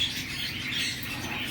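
Pet bird at a bird store chirping, with bright, steady high tweets running continuously over a busy shop background.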